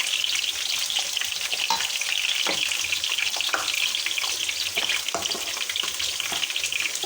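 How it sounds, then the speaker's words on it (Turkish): Potatoes fry in oil for baked karnıyarık, making a dense, close crackle with scattered sharp pops that carries on steadily throughout, with no voices. "Bir tarafta patatesler kızarıyor."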